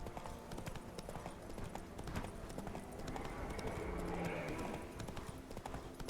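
Video game horse hooves clip-clop in a steady trotting rhythm in The Witcher 3, fairly close, with a brief whinny-like tone rising midway; no talking.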